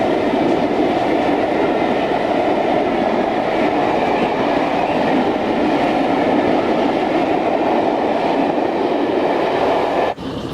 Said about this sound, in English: The yards at Barber, Gator was shunting trucks for the next train.